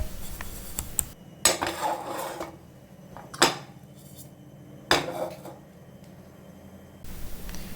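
A pan of melting sugar, caramelizing for coffee pudding, is shaken over the heat, giving a few sharp metallic scrapes and rattles at intervals with quiet sizzling between them and no talk.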